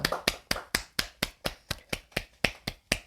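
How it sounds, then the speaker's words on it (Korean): Rhythmic clapping at a church's Wednesday worship service, a dozen sharp, evenly spaced claps in a brisk steady beat, close and clear with no speech. "우리 하나님께 감사의 박수 드리겠습니다"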